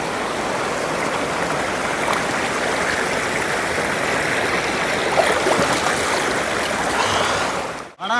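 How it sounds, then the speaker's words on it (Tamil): Steady rushing water of a hill stream at Puliyancholai near Kolli Hills pours continuously, loud and close, with no voices over it. "மூலிகை தண்ணி நல்லா தண்ணி வருது மக்களே"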